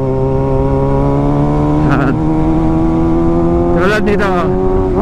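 Engine of a 2022 Kawasaki ZX6R sport motorcycle holding a steady, loud drone with strong harmonics, rising in brief revs near the two- and four-second marks, while someone talks over it.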